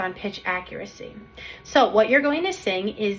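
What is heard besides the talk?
No everyday noises stand out.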